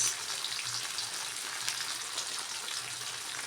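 Fish frying in oil in a pan gives a steady, close hiss and crackle of sizzling that holds at an even level throughout, with no voices over it.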